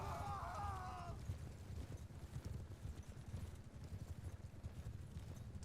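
Horses in the video game Bannerlord clip-clop steadily in a busy game scene, with a brief high whinny-like tone at the start and faint voices in the background.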